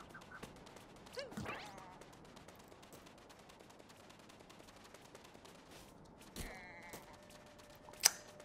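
Sheep bleating in the video game Super Mario Odyssey, a couple of short bleats over quiet game ambience with sharp clicks and impacts.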